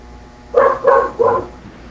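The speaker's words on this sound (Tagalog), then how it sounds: "Ingay naman ang aso yan." Three loud barks from a neighbor's dog, sharp and evenly spaced, with no other sound in between.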